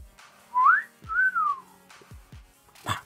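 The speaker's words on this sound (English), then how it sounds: "Can you whistle?" A person whistles a few short rising and gliding notes, clear and close, with quiet gaps and a faint thump between them.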